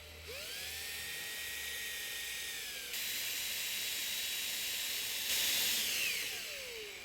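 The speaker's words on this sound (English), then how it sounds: "we're just going to drill in very carefully into those little places" A high-pitched power drill whines steadily as it drills carefully into a wooden jewellery box, its pitch rising and falling as it speeds up and slows down, with a hissy edge throughout.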